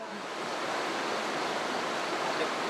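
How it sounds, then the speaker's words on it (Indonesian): The Maladia river murmurs at night, a steady broadband wash of flowing water, even and continuous, with no voices heard. "Malam saya lewati dengan dinginnya udara dan gemercik Sungai Maladia."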